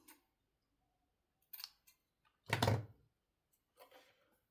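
Scissors snipping through cardboard for a door plaque craft, close and quiet: a few short sharp cuts, then one louder crunching cut, then a softer final snip, with silence in between.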